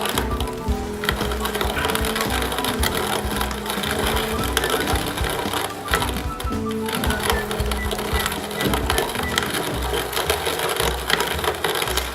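A grain mill cracks malted barley for a home-brewed Redhook-style ESB, giving a steady, loud grinding and crunching clatter that runs continuously without pause, with no talking over it.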